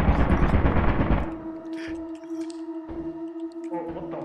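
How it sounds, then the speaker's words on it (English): A turret in the video game Lethal Company unleashes a dense, loud rapid-fire burst, then gives way to quieter tonal game sounds. "Careful, if you're coming this way, there's a turret."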